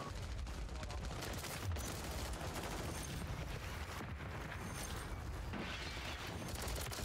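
A Striker 9 submachine gun in Call of Duty MW3 firing in long, continuous rapid-fire bursts. The gunfire is close and loud and fills the whole stretch, with only brief pauses between streams.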